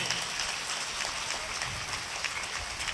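Steady dense applause from a large crowd at a religious katha gathering, a continuous wash of many hands clapping with no gaps.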